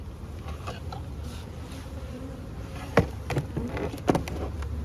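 Bees hum steadily around a slightly light hive, a low continuous buzz with a few sharper knocks and rattles from handling the hive near the end.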